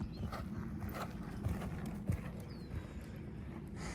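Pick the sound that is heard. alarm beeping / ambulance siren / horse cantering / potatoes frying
horse cantering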